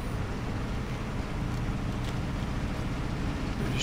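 A truck in the video game SnowRunner drives over a tractor in the snow, giving a steady low engine drone with faint scraping, moderately quiet and even throughout, with no talking.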